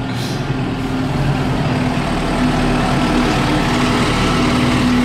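A farm tractor's diesel engine rumbles steadily as it moves to hitch a dump trailer, a loud, close, continuous low drone with no pauses.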